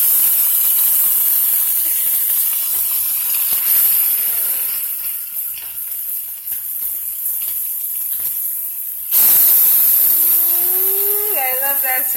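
Loud, steady hiss and sizzle of cod frying in melted butter in a pan, a broad continuous crackle that jumps louder near the end as more fish goes in, with faint voices underneath.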